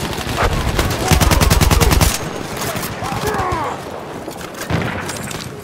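Enemy machine gun in Battlefield 1 fires a rapid, loud burst of evenly spaced shots for about a second, then scattered distant gunfire and battle noise, with voices calling out intermittently.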